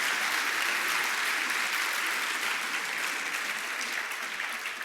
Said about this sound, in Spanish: Aplausos para ustedes.